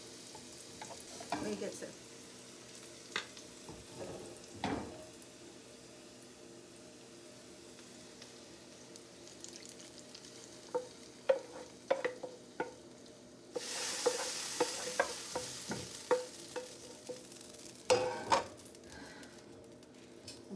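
Naga chili being stirred while it fries in a pan of hot oil, a steady close sizzle broken by scraping spoon strokes and clatter, with a brief spoken comment.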